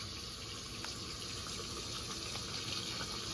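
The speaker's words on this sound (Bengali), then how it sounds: "টমেটোটা প্রথমে একটু ধুয়ে নিই" Large, fresh red tomatoes being rinsed under running water in a kitchen sink: a steady, close splashing rush that continues without a break, with no talking.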